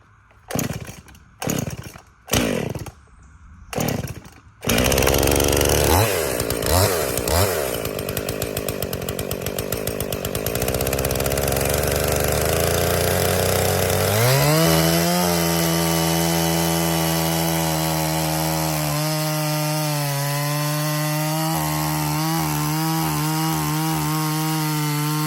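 A chainsaw with a dull, unsharpened new chain cuts into a maple log for a carved barrel. A few short revs come first, then a long, loud, sustained cut with the engine pitch shifting under load. No voices.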